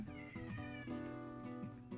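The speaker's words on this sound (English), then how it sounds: "if you can hear my cat screaming outside the door" A cat yowls and meows repeatedly outside a door, sounding muffled and somewhat distant, with sustained drawn-out cries and no talking over them.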